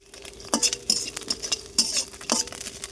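Small fish frying until crisp in a pan with lemon leaves, stirred with a utensil that clatters and scrapes sharply against the pan in uneven strokes over a soft sizzle.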